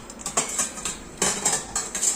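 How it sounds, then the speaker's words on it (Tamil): Metal spoons and dishes clink and rattle as they are handled and stacked, a quick series of bright close-up clatters in rhythmic bursts with no talking. "இந்த மாதிரி ஸ்பூனெல்லாம் இவ்வளோ பாத்திரம் சேர்ந்துருக்குங்க."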